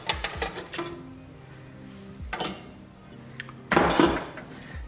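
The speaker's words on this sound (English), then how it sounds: "take off this metal bracket you can see here on the sides by unscrewing all the screws around it" A metal bracket is unscrewed and removed from a 2019 Subaru WRX dashboard, giving a few sharp metallic clinks and rattles of screws and tool, close and fairly quiet, with a louder clatter near the end.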